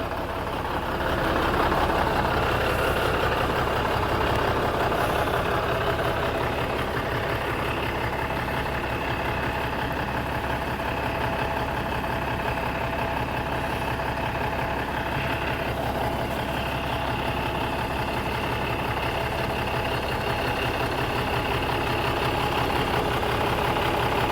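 A 2002 Kenworth KW9000 truck's Cummins diesel engine idles steadily, a continuous low rumble with a faint knocking texture, moderately loud and unchanging throughout.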